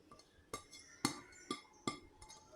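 Chopped cabbage, carrot, beetroot, capsicum, spring onion and green chilli are stirred together in a bowl, giving five sharp clinks of a spoon against the bowl at roughly half-second intervals, close and fairly quiet.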